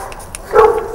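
A dog at a hunting-with-hounds event gives a single short bark or yelp just past the midpoint, fairly close, over a quiet background with faint other sounds.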